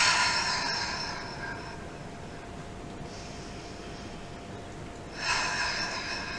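Forceful, sighing breaths during seated qigong practice, drawn in through the nose and pushed out through the mouth: a long breathy exhale, a quieter stretch, then another strong breath, close to the microphone.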